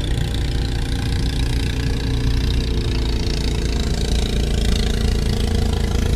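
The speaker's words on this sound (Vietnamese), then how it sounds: "cái âm thanh mà lớn nhất ở đây đó là tiếng ghe" Continuous low drone of a boat engine running steadily, loud and close, with no pauses.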